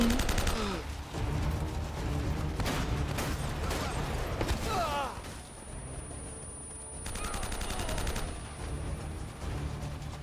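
Gunfire in the video game Uncharted, with dense bursts of rapid shots and scattered single cracks over a busy game soundscape, loud and close, with brief pauses between volleys.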